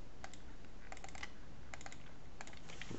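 Typing on a computer keyboard while entering assembler source code on an Amiga: bursts of quick, light key clicks in small clusters over a steady background hiss, close and moderately quiet, with no voices.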